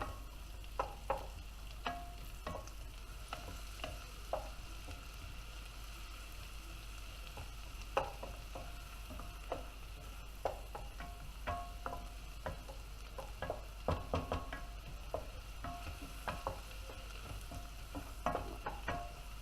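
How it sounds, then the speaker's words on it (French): Sliced shallots sear in melted butter in a pan with a faint, steady sizzle and repeated light taps and scrapes of a utensil stirring, close but quiet, with no talking. "Dès qu'elle est fondue, on rajoute les échalotes émincées. On va les saisir"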